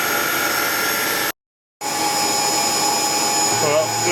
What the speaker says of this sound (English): So I'll now go ahead and put the tooling in on the workpiece, and we'll start the machine off with coolant